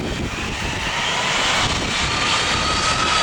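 A four-engine jet airliner roars loudly and steadily on a wet runway at Atlanta's Hartsfield airport, a dense, continuous engine rush with no voices.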